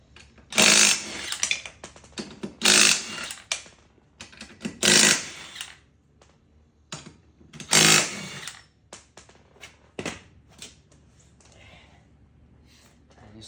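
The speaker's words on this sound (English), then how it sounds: "So we want to break the lug nuts loose. I use the impact wrench for that." An impact wrench breaking ATV wheel lug nuts loose: about five loud, rattling bursts of a second or so each, separated by short pauses, then fainter clicks and handling noises.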